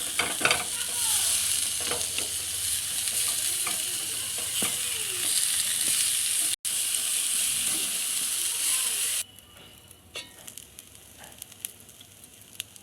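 Eggplant for begun bharta fries in a little oil with water added, giving a loud, continuous close sizzle that cuts off abruptly to quieter clinks and stirring.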